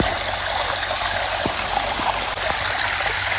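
Steady broadband rush of a waterfall, likely heard while approaching it on a trip in Yasothon, Thailand. The water noise is loud and continuous throughout, with a few faint clicks and no speech.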